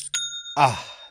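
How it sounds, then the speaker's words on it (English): Shopify sale notification chime: a bright ding with sustained ringing tones, followed by a brief second tonal burst, clear and close with no talking. "That's the sound of another sale on Shopify"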